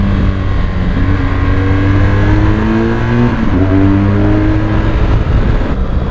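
A 2017 BMW R1200GS motorcycle, a 1200cc engine, is ridden along with its engine droning steadily and loudly, pitch climbing and dropping through gear changes, continuous and close with no talking.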